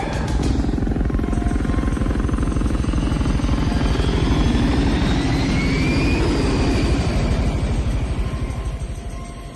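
Steady airplane engine drone in flight, a continuous loud low rumble with a faint rising whine, holding level throughout and fading slightly at the end.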